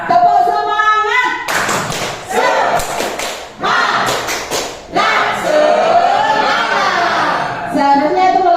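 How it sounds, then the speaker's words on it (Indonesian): A group does a rhythmic spirit clap, sharp patterned hand claps and thumps in quick bursts, mixed with loud chanting voices and some laughter. "Tepuk semangat."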